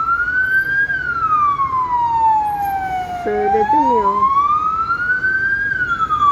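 A wailing siren sweeps up and down loudly, rising again as the vehicle passes close by, with a brief voice speaking partway through.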